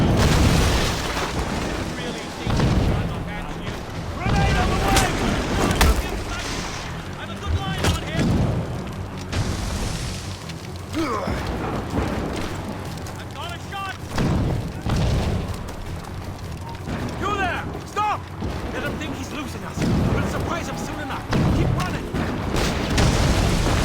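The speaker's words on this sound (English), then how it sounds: "Chevalier is using mortars to stop Shay!" Mortar fire and heavy explosions from Assassin's Creed Rogue, repeated booming blasts and crashing impacts across a loud battle scene, with shouting voices and game dialogue heard over and between the bursts.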